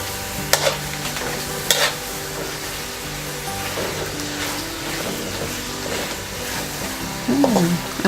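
Homemade chicken tocino sizzles and fries in a pan as the sauce dries out, with steady crackling, a few sharp stirring scrapes and clinks, and a voice speaking briefly over the cooking.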